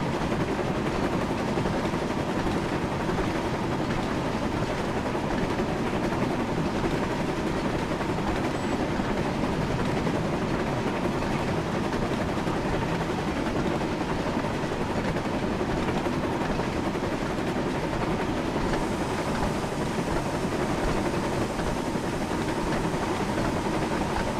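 A video-game train hauls a line of carriages through snowy conditions, giving a loud, continuous mechanical rumble and rolling hiss that holds steady throughout, without pauses or talk.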